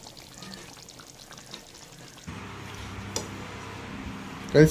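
Fried chicken pieces go into a hot pan for a Kottayam-style Kerala chicken curry. A soft rustle gives way to a louder, steady sizzle partway through, and a sharp clatter comes at the end.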